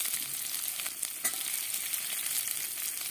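Chopped garlic and onion frying in oil with panch phoron spices, a soft, even sizzle throughout with a sharp pop or stir near the middle, heard alone.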